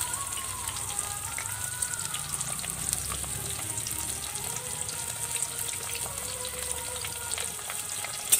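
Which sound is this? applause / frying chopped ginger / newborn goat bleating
frying chopped ginger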